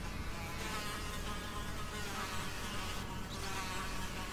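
Constant insect-like buzzing from a swarm of bees in a modded Minecraft game, a steady droning hum that stays even and close throughout, with no talking.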